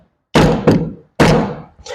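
Two heavy, dull knocks from banging a Honda HRX217 lawn mower carburetor to loosen its main jet, each thud close and loud, about a second apart with a quick double impact in each.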